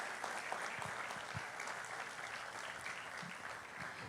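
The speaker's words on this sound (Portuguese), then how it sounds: "um aplauso para os nossos convidados" An audience at a men's church service applauds guest pastors, a steady dense wash of clapping with no gaps, moderately loud and continuous throughout.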